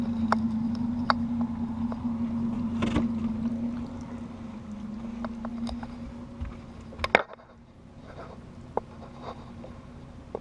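A Mercury Pro XS 175 four-stroke outboard motor on a 2019 Tracker Targa V18 Combo idles with a low, steady hum that fades slightly, broken by a few sharp clicks and knocks nearby.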